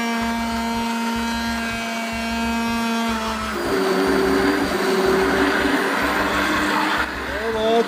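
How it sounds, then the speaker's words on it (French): A kitchen blender whirs while mixing bissara ingredients, a loud steady motor drone that shifts pitch and thickens partway through as the load changes, with a voice talking in French over it. "Préparez votre mixeur déjà."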